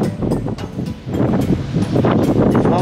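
Strong wind gusts across the island of Gökçeada, blowing in off the sea as a steady, loud roar of broadband buffeting against the microphone with no voices.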